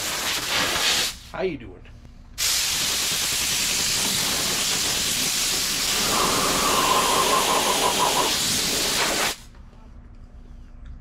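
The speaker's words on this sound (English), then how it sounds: "One good thing about having an air compressor." Loud, steady blast of compressed air from an air compressor hose, running for about seven seconds after a short earlier burst, with someone briefly speaking before it starts.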